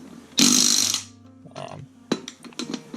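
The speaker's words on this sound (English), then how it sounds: "pulling it down the little last bit of the way with the impact gun" An impact gun on a Suzuki Sierra/Samurai rear wheel lets out one loud half-second rattling burst, then quieter clanks and short knocks as the lug nuts seat.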